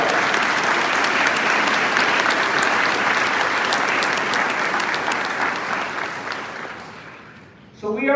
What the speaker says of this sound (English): How about a round of applause for all those that we don't know who they are?